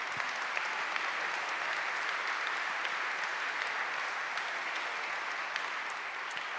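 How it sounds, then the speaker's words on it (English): A sustained wash of audience applause fills a hall at the 2018 EICMA Yamaha global press premiere, steady and dense from start to finish without any speech over it. "Now, a little clap for everyone."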